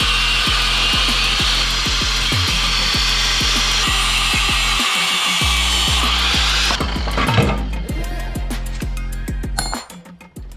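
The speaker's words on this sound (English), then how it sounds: "I'm just gonna cut these bolts out" A power saw cuts through bolts on the engine of a 991.2 Porsche 911 Turbo S during a header upgrade, a loud continuous grinding, rasping buzz with rapid rhythmic strokes that fades and stops near the end, with no voices.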